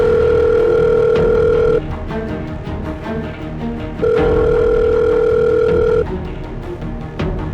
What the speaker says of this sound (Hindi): जी को कब से फोन लगा रहा हूँ, फोन क्यों नहीं उठा रही है?